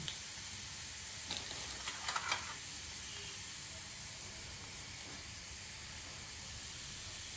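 Finely chopped onion sizzles steadily in a pan for pav bhaji, a constant soft hiss with a few brief clinks and scrapes of stirring near the start, no talking.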